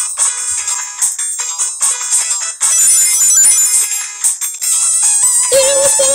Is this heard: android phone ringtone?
yes